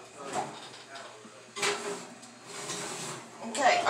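A baking dish is pushed and squeezed into a home oven, with scraping, clattering bursts that grow louder toward the end, and a voice speaking in between.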